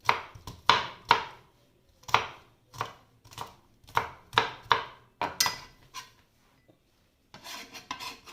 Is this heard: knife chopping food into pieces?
yes